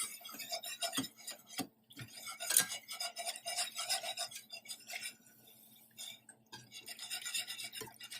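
Whisk scraping steadily through a pan as skim milk is added to a butter and flour roux for beef sausage gravy, a soft continuous stirring rasp with occasional sharper taps against the pan, fairly quiet.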